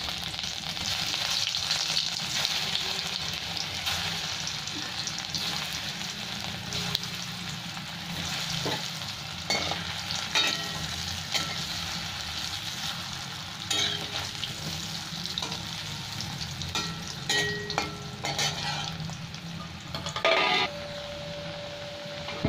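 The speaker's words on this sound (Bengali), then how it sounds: "এখানে আলুগুলো আমি নুন হলুদ মাখিয়ে নিয়েছি, এটা ভেজে নেব" Potato pieces coated in salt and turmeric fry in hot oil in a kadai, giving a continuous close sizzle with intermittent stirring scrapes and clinks and no talk.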